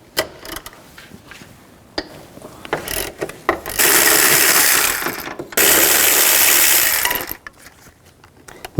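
A ratchet with a 14mm socket and long extension clicks repeatedly while removing rear strut nuts on a 2007-11 Honda CR-V, with short bursts and two longer stretches of rapid ratcheting, close up.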